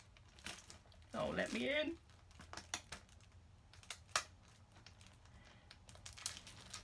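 Cellophane wrapping is pulled off a God of War collector's edition box, giving a short, close, crinkly rustle lasting under a second, amid light handling clicks and brief speech.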